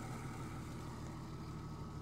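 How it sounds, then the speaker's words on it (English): A 1970 Dodge Dart engine idles steadily, a low, even rumble with a faint regular pulse, quiet and continuous with no talking. "Just sitting there idling."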